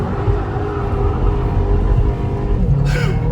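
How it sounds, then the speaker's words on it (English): A 2018 Volkswagen Polo GTI launches hard from a standstill, its engine a loud, steady roaring rumble that holds throughout, close up and heard from inside the car. "let's quickly do a launch control"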